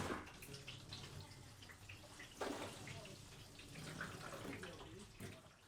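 A garden hose sprays water steadily onto the sliding door window of a RAM Promaster 2500 van, a continuous close hiss and splash with small surges and spatters throughout.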